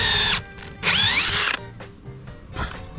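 A power drill bores a pilot hole beneath a sailboat mast in two loud, whining bursts, the second longer, followed by quieter clicks and handling sounds.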